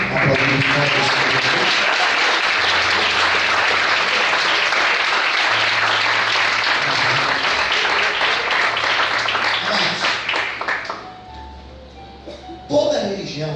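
A church congregation breaks into loud, sustained applause, dense and even for about eleven seconds before tapering off, with a voice speaking over it near the end.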